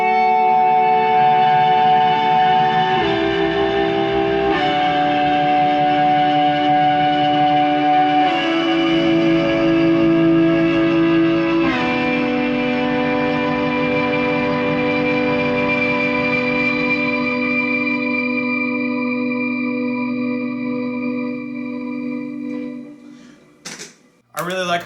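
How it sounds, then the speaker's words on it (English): EBow-sustained electric guitar run through shimmer, harmonist and pitchfork pedals with reverb, playing long, smooth, layered tones that shift pitch every few seconds, with bright shimmering upper harmonics, then fading out near the end. "So here's what the EBow sounds like with these 3 pedals."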